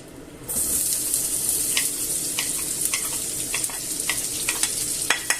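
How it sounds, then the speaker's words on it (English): Chopped onion and garlic hit oil in a hot pan with a sudden sizzle that holds steady and close, with scraping stirs and small pops as they fry. "I'm going to add the onion and garlic on there"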